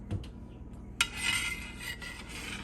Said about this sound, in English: We'll stir this around.